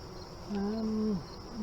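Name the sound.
honey bees buzzing around hive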